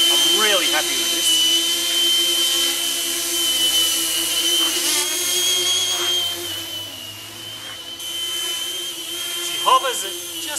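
Experimental thrust-vectoring multicopter hovering at just over half throttle, its motors giving a loud, steady high-pitched whine and whir that drifts slightly in pitch throughout.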